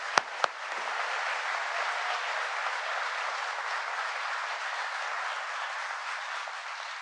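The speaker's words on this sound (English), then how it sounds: "Please give them a round of applause" An audience at a political speech on jobs and semiconductor factories breaks into applause: a couple of sharp claps at the start, then a smooth, even wash of distant clapping that holds steady throughout.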